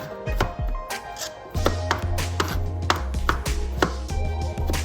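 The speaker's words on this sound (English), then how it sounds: "I'm gonna get those 3 cloves of garlic chopped up as fine as possible." A knife chopping three garlic cloves finely on a cutting board for white chicken chili, rapid loud close chops in irregular bursts with sharp board knocks.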